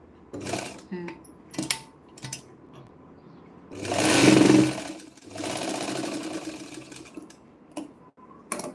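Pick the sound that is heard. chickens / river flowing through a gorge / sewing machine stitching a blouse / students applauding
sewing machine stitching a blouse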